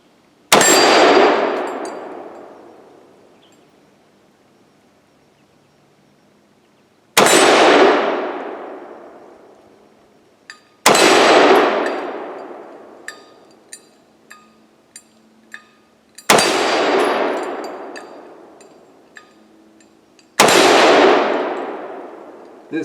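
Tavor X95 bullpup rifle fired outdoors at steel targets, five loud sharp shots spaced several seconds apart, each ringing out with a long metallic decay, with faint small pings from the struck steel between them.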